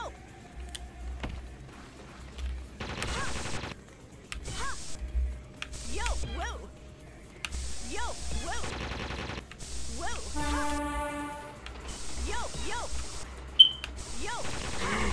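Gunfire in the Jet Set Radio video game, rattling bursts mixed with mechanical clicks and game effects, while a voice talks over it and music plays throughout.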